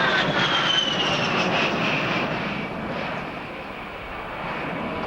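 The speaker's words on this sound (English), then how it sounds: "now he dives therefore for another simulated strafing pass" A ground attack jet dives for a simulated strafing pass at a 1990 RAF Abingdon airshow, a loud sustained roaring whine with a falling pitch that eases slightly and then swells again.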